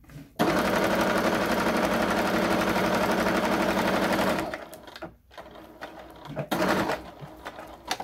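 A sewing machine stitching an oven mitt runs loud and close in one continuous four-second burst, then stops; afterward there are quieter handling sounds and a short second whir.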